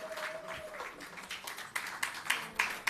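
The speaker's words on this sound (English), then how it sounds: "A round of applause to the Queen" Audience applause at the 2025 South Africa Rural Investment Summit as Queen Sekhothali Mabena of the Ndebele Kingdom comes on stage, a moderate wash of clapping that sharpens into distinct claps toward the end.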